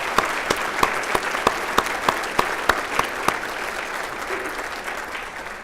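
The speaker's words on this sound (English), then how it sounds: "let's give a big round of applause to the Marriott staff today for doing a great." Sustained applause from a civic audience at a city address, honoring hotel staff, with sharp rhythmic claps standing out near the front before the clapping thins and fades.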